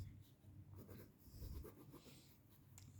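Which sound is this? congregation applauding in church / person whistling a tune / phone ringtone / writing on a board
writing on a board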